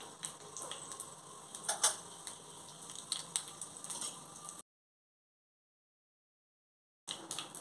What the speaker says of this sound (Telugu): ఇప్పుడు పోపు వేగింది, ఇందులో కొంచెం ఇంగు వేసుకోవాలి.